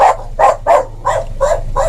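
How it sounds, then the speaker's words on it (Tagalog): Dogs bark outdoors at a reversing vehicle, six or so loud, evenly spaced barks in quick succession, close by and without talk. "kaya biglang nagtahulan yung mga aso."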